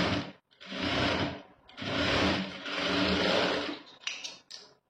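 A sewing machine stitches a blouse seam in several runs of whirring, with brief stops between them and a few light handling sounds at the end.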